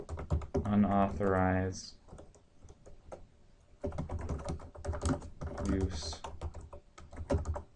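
Rapid, light clicks of typing on a computer keyboard while configuring a network switch run beneath a voice that talks throughout, with short pauses between bursts of keystrokes.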